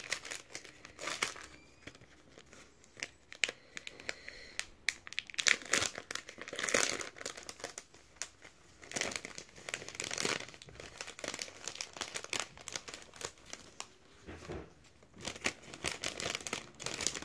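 Paper crinkles and tears while a birthday parcel of scrapbooking supplies is unwrapped, with dense crackling rustles coming in close bursts throughout and no talking.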